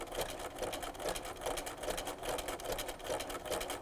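A sewing machine runs a steady zigzag stitch down a twisted thread tassel, top and bobbin threads held with the other threads, giving a continuous close whirring hum with a rapid regular needle rhythm and no talk.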